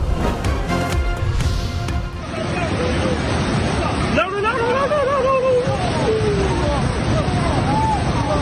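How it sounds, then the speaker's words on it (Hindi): Swollen, fast-flowing floodwater surges through the Mingora stream in Swat, a steady loud roar heard close by, with a murmur of people's voices mixed into the rush. "आप देख सकते हैं कि मिंगवर खड़ में पानी की बहाव में बेतहाशा इजाफा हुआ है।"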